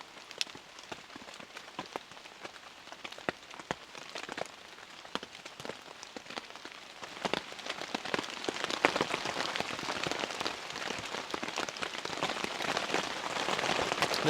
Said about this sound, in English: And now camping, I can't hear anything because of the rain.